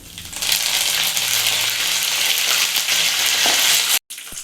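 Mustard seeds and curry leaves sizzle loudly in hot oil with browned urad and chana dal for mango chitranna, a dense, steady crackle that cuts out abruptly near the end before resuming briefly.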